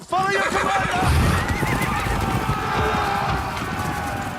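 Horses neigh loudly and gallop in a movie battle scene shot on a muddy, slippery field, with a whinny at the start over the thick rumble of hooves and commotion.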